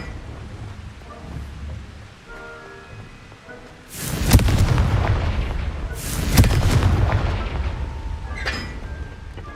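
Two loud explosive blasts from the Confringo fire spell in the video game Hogwarts Legacy, about two seconds apart, each one rumbling and fading slowly over quiet game ambience.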